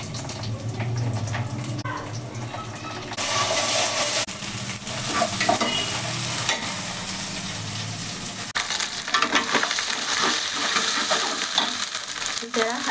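Ginger-garlic paste sizzles and fries in a pan with browned onions for a vegetable pulao, a steady loud crackle with stirring scrapes, shifting in intensity partway through, with no talking.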